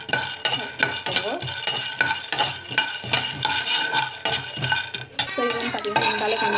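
An ingredient dry-roasts in a pan while a utensil stirs it steadily, giving rhythmic close scraping and rattling strokes with a light sizzle beneath and no voices.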